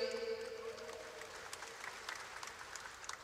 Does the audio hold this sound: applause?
yes